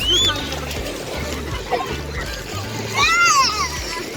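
Bathers splash and slosh in the water of a guarded pond swimming area on a busy day, with children's voices chattering and calling over the steady splashing nearby.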